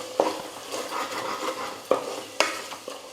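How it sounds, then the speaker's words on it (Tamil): Spices being sautéed in a pan for a chickpea and potato side dish, heard as soft sizzling with steady stirring and a few sharp clinks of a spoon against the pan, close up with no voices. "மசாலாலாம் சேர்த்ததுக்கப்புறம் ஒரு முப்பது செகண்ட் நல்லா வதக்கிக்கலாம்"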